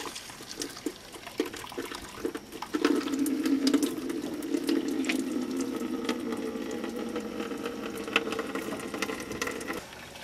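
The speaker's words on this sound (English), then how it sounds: "And now we pour some in." Flush cleaner pours into the heater core of a 1994 Chevy Caprice wagon with a 350 V8, making a steady gurgling liquid stream that starts after a few clicks and runs continuously until stopping near the end.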